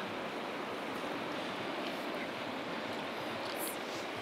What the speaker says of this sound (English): we are going to enjoy this cool little campground that we found right by the river